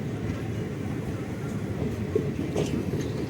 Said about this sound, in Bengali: দেখো ট্রেন এই প্ল্যাটফর্ম থেকে বেরিয়ে যাচ্ছে।